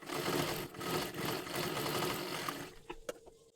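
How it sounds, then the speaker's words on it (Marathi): A sewing machine runs steadily and close, double stitching a dress made from a Kathpadar sari, then slows and stops with a few clicks at the end. "इथे आपल्याला पुन्हा एकदा एक डबल शिलाई मारून घ्यायची आहे"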